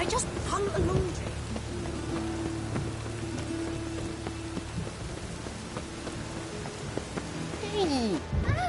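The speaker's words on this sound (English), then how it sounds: "It just rains and rains." Steady rain falls in The Witcher 3: Wild Hunt as a continuous patter beneath game ambience, while a character's voice speaks over it.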